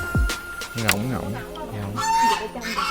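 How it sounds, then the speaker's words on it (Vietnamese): Geese honking and calling at a rural spot in Bến Tre, Vietnam, loud nasal honks with rising and falling tones repeating across the whole stretch, close to the microphone, with other fowl sounds mixed in. "Ngỗng"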